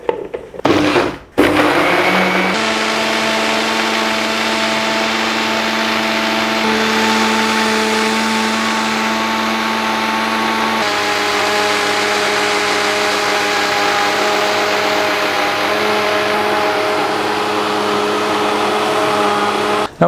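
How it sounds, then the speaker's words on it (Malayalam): An electric blender whirring through a jackfruit shake with ice cream and thickened milk, a few bumps as it starts, then a loud steady motor drone for about twenty seconds, alone. "നമ്മുടെ ഷെയ്ക്ക് അടിച്ചെടുക്കുക"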